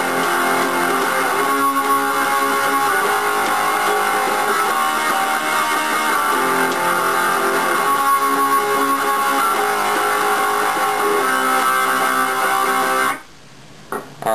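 A distorted electric guitar plays the chorus of a song, loud and steady power chords strummed for about thirteen seconds before cutting off abruptly.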